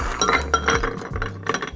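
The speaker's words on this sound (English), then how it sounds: "load the glass with ice." Ice cubes clink and rattle into a pint glass while a whiskey and Cherry Coke drink is being made, several close, bright glassy knocks in quick irregular bursts with no talking.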